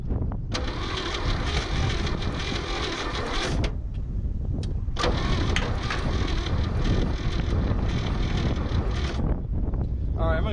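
A 1962 Chevy Biscayne left sitting over 40 years in a farm field cranks in two long bouts of loud, rhythmic starter churning, separated by a short pause. It never catches, and wind buffets the microphone outdoors.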